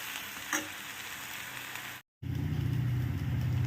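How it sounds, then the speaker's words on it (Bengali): Spinach leaves fry in a pan with a soft, continuous sizzle and occasional stirring; after a brief cut the sizzle returns louder and closer, with no voices. "প্রত্যেকটা পালং শাককে কিন্তু আমি একটু ছাড়িয়ে ছাড়িয়ে একটু হালকা হাতে ফ্রাই করে নিচ্ছি।"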